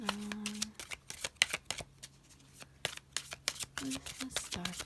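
Tarot cards being shuffled during a reading: rapid riffling and slapping bursts in quick irregular succession, close and fairly loud, with a voice speaking briefly in the background.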